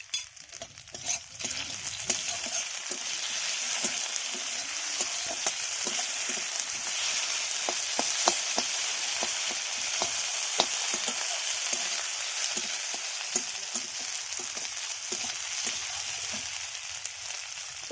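Ground coriander, ginger and pepper paste fries for a fish curry with potatoes and okra, a continuous close sizzle broken by repeated scraping strokes of stirring throughout.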